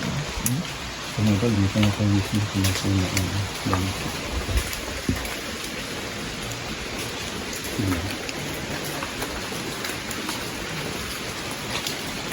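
Steady heavy rain hisses throughout, with a low rumbling hum in the first few seconds and a couple of sharp knocks.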